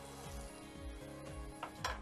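A small cube of butter melts in a frying pan with oil, giving a soft, faint sizzle with light stirring and pan knocks in a quiet kitchen, and no talk.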